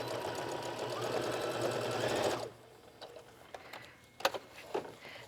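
A sewing machine back stitches a fabric scrap wallet, running in a fast, close whir for about two seconds, then stopping, followed by a few quiet clicks and handling taps.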